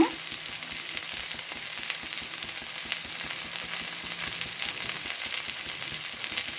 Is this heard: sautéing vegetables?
yes